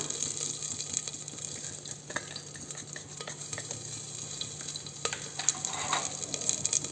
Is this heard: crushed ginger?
yes